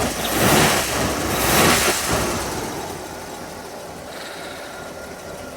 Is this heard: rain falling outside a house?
no